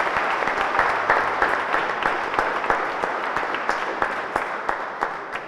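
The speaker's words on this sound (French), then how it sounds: "Alors applaudissons bien fort Jean-François." A church congregation at a Saturday Mass at St Patrick's claps in sustained, steady applause, dense and even throughout, with no voices over it.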